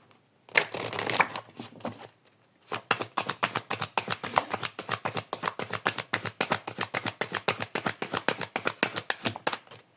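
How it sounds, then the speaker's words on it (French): Tarot cards are shuffled close up: a brief riffle, a short pause, then a long run of quick rhythmic card slaps, crisp and steady with no talk. "Donc je vais tirer une carte et voir ce qu'on nous propose."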